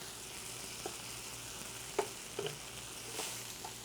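Mushrooms fry in a pan with a soft, steady sizzle, fairly faint and continuous, broken by a few light clinks and stirring taps.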